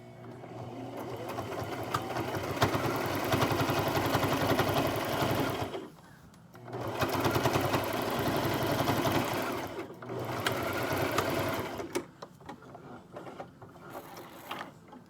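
Sewing machine stitching a fabric face mask, a fast, close, steady mechanical whir of needle strokes that runs in long bursts, stops briefly around six and ten seconds, then resumes.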